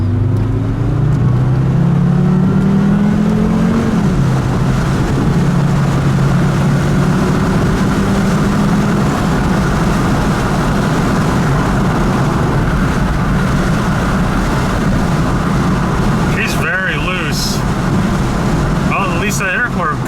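Volvo V70R wagon engine revving hard under turbo boost, a loud rising then sustained mechanical drone with a climbing pitch at first, settling into a steady heavy roar close by.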